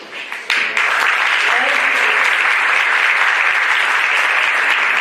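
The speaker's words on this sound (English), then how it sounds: "Big round of applause for Ben for reading all those names" A crowd at a high school signing day breaks into a big round of applause, starting with a few claps and swelling into loud, sustained, even clapping that fills the room for several seconds.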